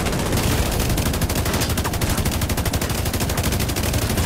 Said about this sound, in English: Sending headshots.